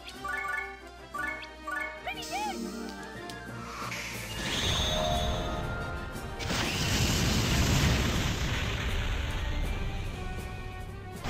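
A fire spell attack in Disgaea opens with chiming menu tones, then swells into a roaring burst of flame with crashing, booming impacts that rumble on for several seconds at moderate loudness.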